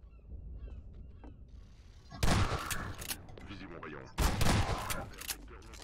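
Two loud, dense volleys of gunfire from the shooter game Half-Life 2 ring out about two seconds apart, each crackling briefly over quieter in-game ambience.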